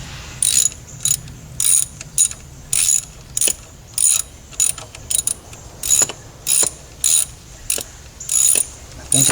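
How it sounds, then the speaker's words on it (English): Ratchet wrench turning a bolt on the valve cover of a 2002 Toyota Camry, a series of short clicking bursts in a steady back-and-forth rhythm with brief pauses between strokes, close and clear. "Gonna start this one with a wrench."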